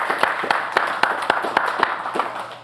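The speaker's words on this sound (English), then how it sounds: "Give him a round of applause." A small audience applauds a guest at the end of a talk, with a sparse, irregular run of individual sharp claps over a soft background roar, fairly close and moderately loud.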